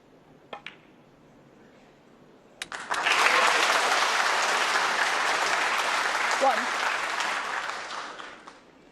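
Snooker crowd at a World Open final breaking into sustained applause after a couple of isolated claps, a dense wash of clapping that holds steady for several seconds before tapering off near the end.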